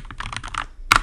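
Fingers type on a Mac computer keyboard up close, a quick run of soft key clicks followed by a sharper, louder keystroke near the end.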